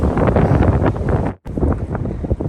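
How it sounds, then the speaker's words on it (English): Strong wind gusts buffet the microphone high on a mountain along the Appalachian Trail, a loud, steady roar with a brief drop to near silence midway before the blustery rush returns. "Wind's starting to kick."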